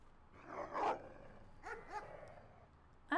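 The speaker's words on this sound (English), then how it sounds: "I don't even know why we have German Shepherd dogs." German Shepherd dogs barking in the Wolf Simulator video game, a few separate sharp barks and yips spaced across a couple of seconds, fairly faint, with no talking.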